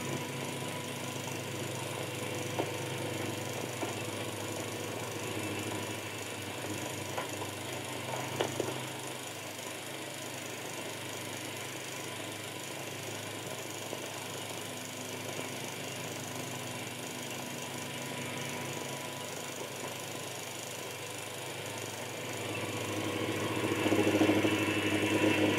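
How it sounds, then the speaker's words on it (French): A steady, low tank engine rumble drones continuously at a distance, with a slight swell in intensity near the end. "Il ne peut pas l'être par un char, décelé au loin par le bruit de son moteur."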